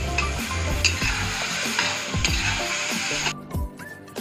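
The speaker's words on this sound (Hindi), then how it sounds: "तो दो गाइस हम इसे 1 से लेकर 2 मिनट तक ऐसी फ्राई करते रहेंगे, इसे चम्मच से हिलाते रहेंगे।" Onion, tomato and capsicum fry for chilli paneer in a pan, stirred with a spoon: a steady sizzle with repeated metal scrapes and clanks close by.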